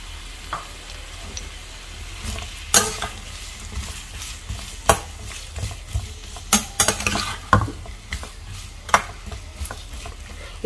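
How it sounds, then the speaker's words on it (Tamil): Onion frying in hot oil on a tawa for chana masala, a steady soft sizzle broken by irregular scraping clinks of a spatula stirring, close by with no talk. "ஆயில் ஹீட் ஆனோடனே நம்ம இந்த ஆனியன் எடுத்து போட்டுக்கலாம்"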